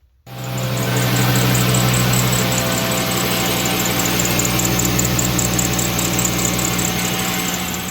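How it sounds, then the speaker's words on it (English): A 2010 Volkswagen Jetta engine idles with a squealing serpentine belt. A loud, continuous rumble carries a thin, steady whine on top, starting abruptly and holding unchanged, with no talking. "we got a 2010 Jetta making a noise with the belt. You know, it's squealing."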